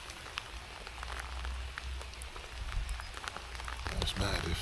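Rain falls steadily while trout fishing in Devon, a dense patter of drops striking nearby surfaces with scattered sharper taps, growing slightly heavier toward the end.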